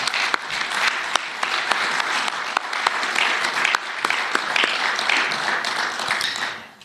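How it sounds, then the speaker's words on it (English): A debate audience gives the two debaters a round of applause, dense sustained clapping with sharp individual claps, holding steady before fading out at the end. "can we maybe have a round of applause for our two debaters this evening?"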